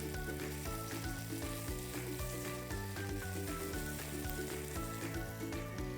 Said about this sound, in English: Once you add in your tomatoes, just give it a quick stir.